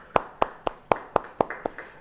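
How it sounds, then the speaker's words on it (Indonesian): A church congregation clapping for God at a Bible study: eight evenly spaced, crisp claps in a steady rhythm, fairly close and clear, with no talking over them. "Yang percaya, beri tepuk tangan buat Tuhan."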